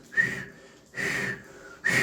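Three bursts of human whistling, each a sustained breathy tone mimicking the breath whistle that female sea divers make on surfacing, separated by short pauses and heard alone.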